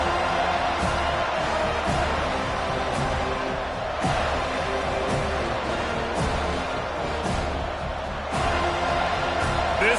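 A college football stadium crowd at Clemson versus Florida State keeps up a dense, steady roar, with sharper bursts of noise popping out now and then.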